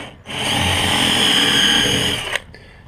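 Power drill boring into wood while building a food storage can shelf, one steady high whine lasting about two seconds, close and loud, then cutting off sharply.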